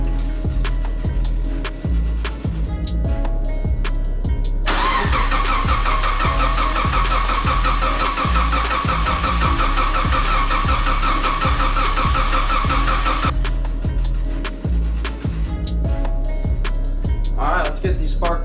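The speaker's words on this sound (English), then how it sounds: "once about a minute after cranking, I'll go ahead and fire it up" A rebuilt Subaru EJ engine cranks with a rapid, steady starter rhythm. Partway through it catches and settles into a louder running idle, then drops back to cranking pulses near the end, all heard close up.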